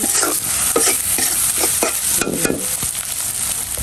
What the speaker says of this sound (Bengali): এবার আমি সব মশলা দিচ্ছি নাড়া দিয়েছি